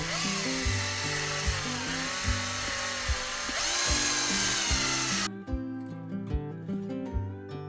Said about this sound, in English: Then drilled a tang hole to seat the blade.